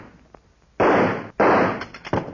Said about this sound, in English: I think I can shoot that handle off.